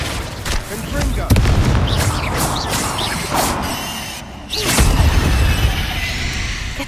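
Explosive spells cast in combat in Hogwarts Legacy, with heavy booms, whooshes and crashing impacts in rapid succession, loud and close, interspersed with shouted incantations.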